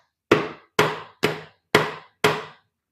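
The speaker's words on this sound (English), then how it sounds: "this is like a rubber hammer" A rubber hammer taps five times in a steady rhythm on a 2008 BMW 650ci engine that will not rotate. Each blow is a sharp, close thud that fades quickly, and there is no talking.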